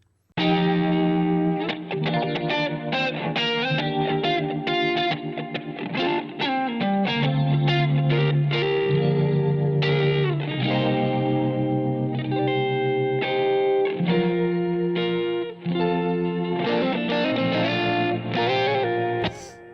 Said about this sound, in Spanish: voy a aplicar un poquito de ecualizador en la reverb de la guitarra